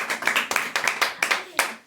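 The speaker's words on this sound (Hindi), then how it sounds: "जोरदार तालियां" Small group of students clapping in a classroom quiz setting, a short burst of sharp, fairly close claps in an uneven rhythm lasting under two seconds.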